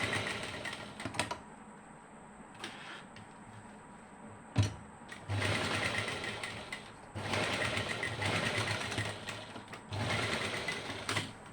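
A sewing machine stitches a zip onto a top in several loud bursts of rapid needle clatter, separated by short quiet pauses, with no talk.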